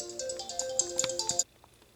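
A phone plays a bright electronic ringtone in a rapid, chiming melody of short notes for about a second and a half, then it cuts off abruptly to near silence.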